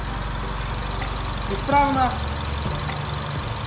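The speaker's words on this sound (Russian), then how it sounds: "Мотор, как видите, работает" A Peugeot 3008 engine idles steadily after a timing chain replacement, a low, even hum running throughout beneath a man's nearby speech.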